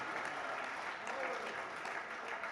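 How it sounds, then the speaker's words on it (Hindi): An audience at a Hindi poetry recital applauds steadily, a dense wash of clapping that holds at an even level throughout. "तालियां थोड़ी है जरा मिलके बजाओ"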